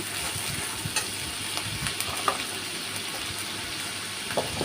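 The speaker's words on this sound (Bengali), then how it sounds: "দিয়ে আবার আমি সরিষার সাথে ভেজে নিচ্ছি" Ginger-garlic paste and green chilies frying in mustard oil, with ground mustard in the pan, give off a steady close sizzle and crackle, broken by a few soft scrapes and taps, with no voices.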